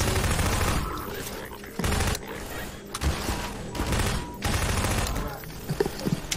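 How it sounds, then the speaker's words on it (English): Rapid bursts of gunfire in the video game Garry's Mod Half-Life 2 co-op, loud volleys in repeated clusters with brief pauses between them. "I can't do that because of all these gunshots."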